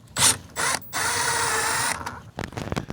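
A ratchet working a 7mm screw out of a Chevy Silverado door, giving short mechanical whirring bursts followed by a longer steady run and a few light clicks, close and loud.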